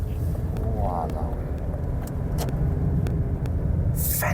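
BMW 525i E34 engine pulling steadily from inside the cabin, a continuous low rumble under someone talking, with light ticks and a brief burst of noise near the end.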